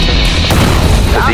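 A single gunshot fires in the chicken shooter game Chicken Gun, a sharp broadband boom about midway through, over a constant bed of game noise with a voice speaking.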